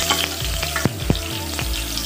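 A hot dog frying in cooking oil in a pan, giving a steady bright sizzle with a few sharp pops and stirring clatters over about two seconds, close and without talk.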